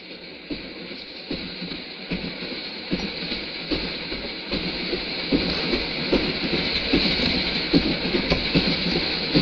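Train rolling steadily on rails inside an Italian passenger train, a continuous rumble and rattle with faint irregular clicks, growing slightly louder over time with no voices.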